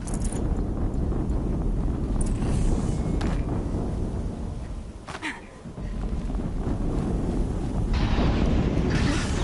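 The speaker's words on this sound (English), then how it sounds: "Another explosion." A massive explosion in the game Horizon Zero Dawn rolls out as a deep, continuous roaring rumble, briefly easing midway before surging back at full force.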